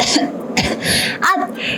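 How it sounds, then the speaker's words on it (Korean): A single person coughs and clears their throat, a couple of short harsh bursts close to the microphone, with a voice briefly present around them. "단순한 기침 소리였습니다."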